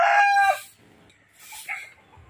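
A six-month-old white streamer gamecock of pure Kanawayon bloodline crows loudly and close by, one long call that breaks off, followed by a quieter second crowing phrase.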